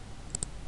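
Two quick, faint mouse clicks in quiet room tone while drawing in Illustrator.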